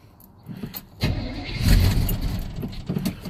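A Chevy truck with a weak starter cranks on a cold start: a close, loud, labored grinding that surges and churns for a few seconds as the engine struggles to catch, with no talking.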